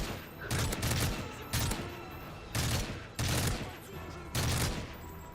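Video game gunfire comes in five loud, sharp bursts of rapid shots spaced about a second apart, each followed by a short decaying tail.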